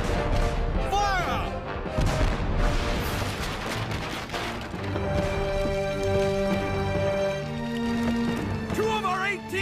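Cartoon naval cannons roar and boom during a sea battle, heavy blasts and crashes mixed with music and shouted voices throughout.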